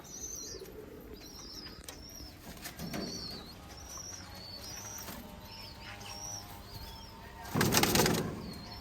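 A pair of Balti pigeons in a loft, with soft coos and bird calls over a steady background, then a loud burst of wing flapping near the end.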